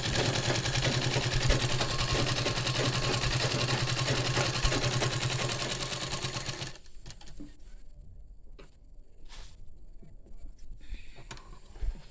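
A sewing machine stitches a kubasa blouse, running in one steady, dense whir for about seven seconds before stopping. Quieter handling noises follow.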